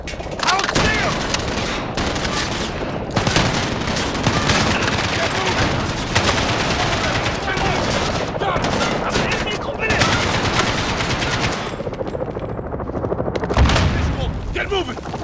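Gunfire and explosions from the Call of Duty: Modern Warfare (2019) single-player campaign: dense, continuous machine-gun bursts and heavy booms, with voices shouting in the mix.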